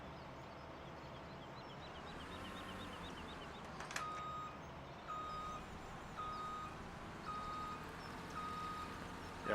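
Steady reversing beeps from a farm vehicle in Farming Simulator 17, about one beep per second, sounding over a constant engine drone.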